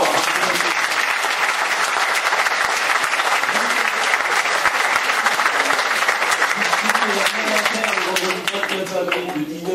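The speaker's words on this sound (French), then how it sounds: "Alors, applaudissez d'abord." Loud, dense applause from a large audience fills the whole stretch, with voices beginning to rise over it as the clapping thins near the end.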